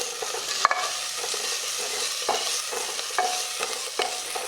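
Ginger and green chilies fry in a hot pan for a Punjabi aloo matar curry, giving a steady close sizzle broken by occasional scraping clicks as they are stirred.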